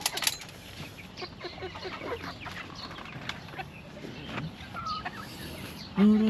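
Chickens and ducks in a backyard pen cluck and call in scattered bursts, with faint fowl chatter throughout and a louder sustained call near the end.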